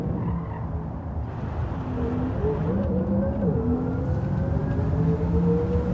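A race car engine in the Gran Turismo 7 driving game, a steady loud drone with rising and shifting pitch as it accelerates and changes gear, with faint tire noise underneath.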